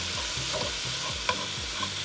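Finely diced yellow onion is stirred into ground beef frying in a pan, producing a close, steady sizzle with rhythmic scraping strokes about every quarter second and one sharper clink.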